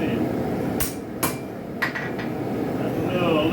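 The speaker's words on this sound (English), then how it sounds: "That's a little tap with the hammer don't fix." Sharp metallic taps of a hammer on a forged spike knife blade resting on an anvil, three or four separate close strikes spaced irregularly, with a steady background rumble.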